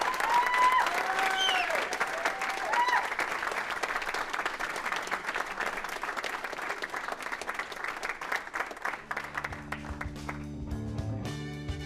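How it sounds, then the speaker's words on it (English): Group applause and clapping rises from participants at a coaching session, lively and sustained, with a whistle or cheer early on, then thins out as music and tonal sounds take over toward the end. "give yourselves a round of applause."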